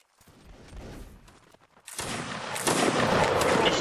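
Musket volleys crackle in a Mount & Blade Napoleonic Wars line battle, a quieter scattered shot or two first, then a loud dense fusillade bursting in and swelling again near the end.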